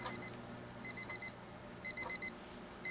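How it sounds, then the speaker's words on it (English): An electronic alarm in the horror video game Dungeon Nightmares II beeps in short bursts of four rapid high tones, repeating at steady intervals, faint over a low background hum. "Sounds like an alarm."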